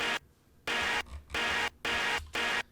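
A layered pad sample from the Zave sample pack, chopped into a repeating rhythm of four sustained bright bursts with brief dips between them, alone and fairly loud.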